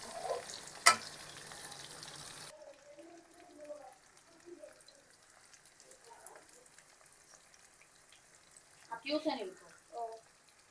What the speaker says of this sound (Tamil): நல்லா தான் மெதுவாக அதை கிண்டி கிண்டி கிளறி விட்டு கொண்டு இருந்தால் தான் அது பொறிவிடும்